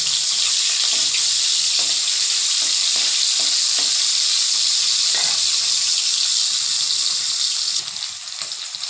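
Hilsa fish fries lightly in hot oil, producing a loud, continuous bright sizzle with a few soft clinks from handling, and no talk.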